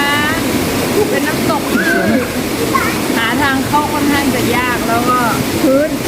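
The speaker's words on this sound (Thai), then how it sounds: "ข้างหลังนี้คือน้ำตกนะคะ" A steady rush of falling water from the Grotta Urlante waterfall in a valley near Premilcuore, Italy, runs continuously beneath people talking and exclaiming nearby.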